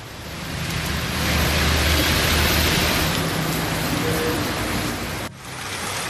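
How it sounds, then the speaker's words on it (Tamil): Rain falls steadily around Sivaganga on a second straight day of showers, a dense hiss that swells slightly mid-clip, dips briefly near the end and carries on with no voices. "சிவகங்கை மற்றும் அதன் சுற்றுவட்டார பகுதிகளிலும் 2ஆம் நாளாக மழை பெய்தது."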